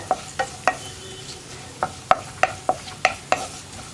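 Spice powders for egg kuruma are stirred in a pan over a low flame, a spoon scraping the pan in steady sharp strokes about three times a second, close and alone.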